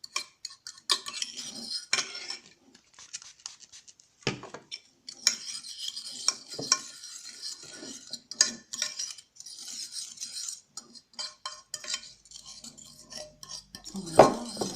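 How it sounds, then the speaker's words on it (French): Homemade dishwasher tablet mix of powder and a little water being stirred in a bowl, giving repeated light scraping and clinking of a utensil in irregular bursts, close and fairly quiet, with no talking. "Voilà, on mélange. Encore."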